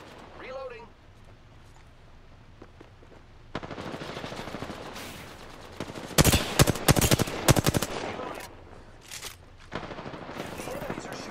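Enemy gunfire in Apex Legends arenas, bursts of rapid automatic shots, loudest in the middle, mixed with game sounds while a voice talks over them.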